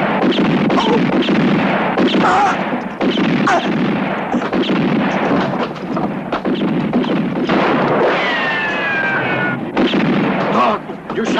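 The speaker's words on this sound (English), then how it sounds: "You shot Dick." Loud, repeated gunshots and booming reports fill a western film shootout, coming in dense overlapping bursts with shouting voices mixed in.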